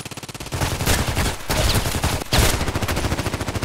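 Rapid bursts of gunfire from the SV-98 sniper rifle in the shooter game Contract Wars, loud repeated cracks in quick strings with short gaps between them.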